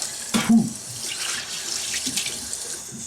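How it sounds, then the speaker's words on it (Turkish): Tap water runs steadily as a face is washed, with a louder splash near the start and softer running and splashing after it, close to the microphone. "Hadi şimdi yüzü suyla yıkayalım."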